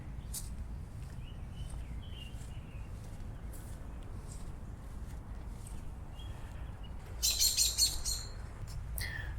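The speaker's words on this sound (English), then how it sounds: "I don't know if you can hear in the background all the robins singing." Robins singing in the background of a cemetery, faint scattered chirps and short song phrases over a low rumbling outdoor ambience, with a brief louder burst of calls near the end.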